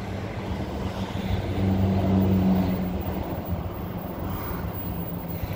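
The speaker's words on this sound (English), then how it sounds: "Next train's a six-car Butler service in 14 minutes." A six-car Perth-bound train arriving at Currambine station platform, its low engine and rolling rumble swelling to a peak mid-clip then easing off, mixed with wind noise and no talking.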